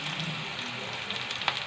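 Chopped onions sizzle in hot oil with a soft, continuous frying crackle and a small pop near the end, brief and fairly quiet with no voices.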